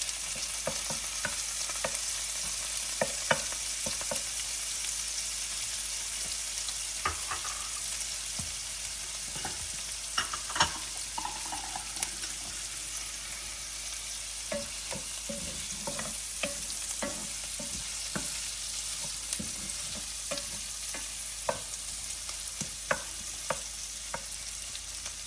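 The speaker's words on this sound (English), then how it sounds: "I'm going to add our mushrooms." Sliced mushrooms fry in a hot pan for a Tuscan chicken dish, giving a continuous soft sizzle broken by frequent scraping clicks of a utensil stirring them, with no talking.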